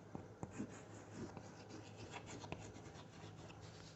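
Pen or chalk scratching out an example sentence in short, quiet strokes and soft rubs, faint and close, with no talking over it.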